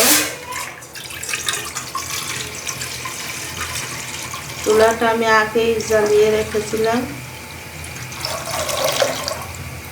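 Water pours into a cooking pot set on an already lit stove while pitha with date palm jaggery is being prepared, a steady splashing rush running under a woman's speech.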